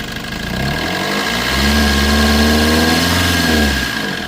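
A Maruti Vitara Brezza diesel engine idles and then revs up to a sustained higher pitch, holding for a couple of seconds before dropping back, loud and close with a clattery diesel tone and no talk over it.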